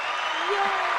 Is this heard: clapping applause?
yes